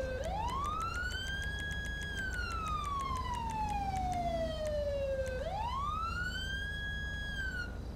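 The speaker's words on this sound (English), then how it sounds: "I think your siren's going." A police car siren wails in a video game, rising and falling in long smooth sweeps, loud and steady throughout with no talk over it.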